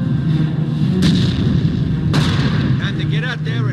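Gunfire and artillery from a Company of Heroes battle, loud and continuous, with two sharp heavy blasts about a second apart standing out above the steady rumble of combat.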